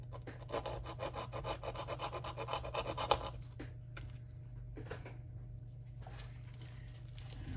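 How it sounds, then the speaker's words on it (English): A small piece of gold jewelry chain held in pliers is rubbed against a testing stone, producing a fast rhythmic gritty scraping up close that stops after a few seconds, followed by faint handling clicks. "grab it with some pliers, rub some of the metal off on here"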